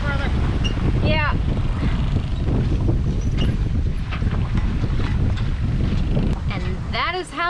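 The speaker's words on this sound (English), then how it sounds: "that is how you take down a drifter in high winds" High wind roars across the microphone on a sailboat while a drifter sail is lowered, a constant loud buffeting with sail and rigging noise and a few brief voices over it.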